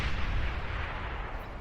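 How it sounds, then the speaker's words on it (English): A huge blast from the super D gun in a video game rolls out as a loud, deep, roaring rumble that fills the whole moment and slowly fades. "That big explosion was so big it destroyed the conversion in the blue base over here"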